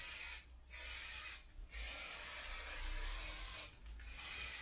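Aerosol can of Full Dip peelable paint sprayed in a thick coat, a steady close hiss in three long bursts separated by short pauses.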